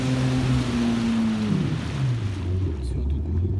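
A small boat's outboard motor drones steadily while heading upstream against the current on a shallow river. Its pitch drops partway through as the engine eases off, and there is a low watery rumble underneath.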